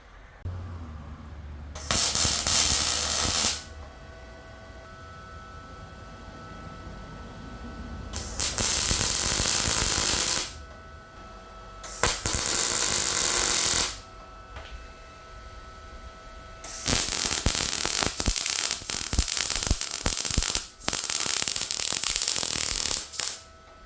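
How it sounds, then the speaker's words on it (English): Welding a cross member onto a motorcycle trailer for a Triumph Bobber produces four bursts of loud crackling, buzzing arc noise, each lasting a few seconds with quieter pauses between them. No one speaks. "I'm going to weld the cross member in here"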